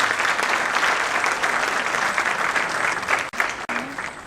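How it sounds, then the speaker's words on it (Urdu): Steady, dense applause from an audience at a dinner with students, rewarding a girl's confident speech; continuous clapping that breaks off briefly near the end. "بھرپور تالیاں تو ہونی چاہیے اس کے لیے"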